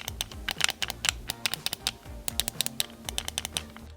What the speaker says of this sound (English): here's a quick test of what they sound like